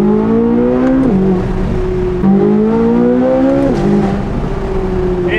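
A Chevrolet C8 Corvette Z06 with a titanium exhaust and stock downpipes runs with the roof off on an airstrip. Its loud, high-revving engine climbs in pitch, then drops back through repeated gear changes.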